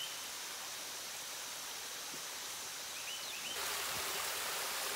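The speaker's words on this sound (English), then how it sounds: "Nice cascade of water coming down." A small cascade of water tumbling down a creek channel in a canyon on the Wells Hill Park trails in Fayetteville, Tennessee, a steady broadband rush that swells louder near the end.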